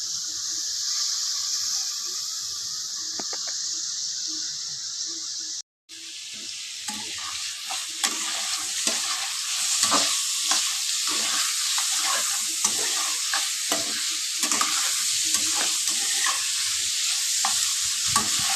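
Loud, steady sizzling from a hot pan on high heat, briefly cut off, then returning with constant crackling and repeated scraping as the food is stirred.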